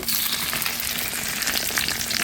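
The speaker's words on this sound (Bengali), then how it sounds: "তেলটা গরম হয়েছে এখন এটা বসিয়ে দিচ্ছি" A steady, loud sizzle of taki fish frying in hot oil fills the whole moment, close and unbroken.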